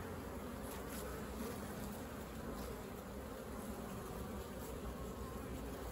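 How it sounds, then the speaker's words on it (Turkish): Buckfast cross honeybees from a somewhat ill-tempered colony hum in a steady, dense drone close to the hive, a continuous buzz with no voices. "Belfax kırması diye düşünüyoruz bu arıyı"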